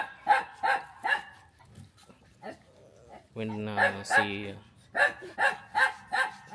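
A female dog barks in quick rhythmic runs of sharp, close barks, pausing midway for a longer drawn-out howling call, then barking again in a rapid series; a few spoken words slip in briefly.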